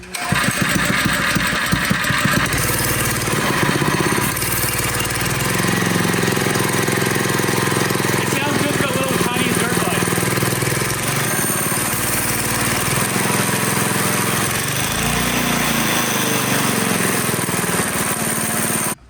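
A homemade boat engine built from a saw blade runs on a belt drive with a new pulley, giving a loud, harsh, rattling motor clatter that continues without a break for about nineteen seconds.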